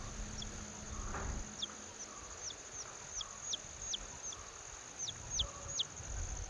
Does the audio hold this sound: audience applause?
no